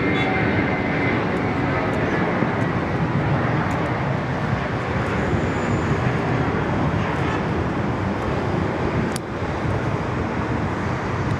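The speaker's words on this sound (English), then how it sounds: "Let's get this 321 blasting off. The first departure of the day in the sun." An Airbus A321 jet roars on its takeoff run as the first departure of the day at Sydney Airport, a loud, steady, broadband engine rumble filling the whole stretch without pause.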